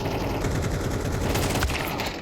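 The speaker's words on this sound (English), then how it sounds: "You can hear the gunfire." Rapid, continuous video game gunfire crackles in dense bursts during an esports match on the map Vertigo, loud and close, with a busy layered background and no voices.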